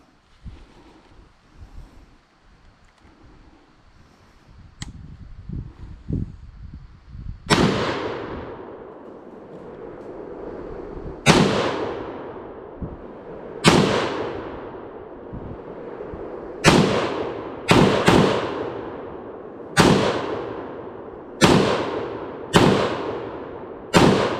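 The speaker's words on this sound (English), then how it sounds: "we're gonna let J-Ro try the SAPR now" SIG SG751 SAPR rifle in 7.62 NATO fired outdoors, about ten loud, sharp reports spaced a second or two apart, each trailing into a long rolling echo.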